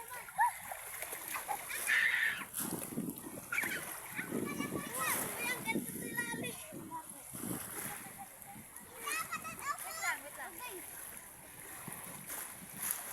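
Children splash and play in the sea, with excited young voices and chatter over the wash of waves and occasional splashes nearby.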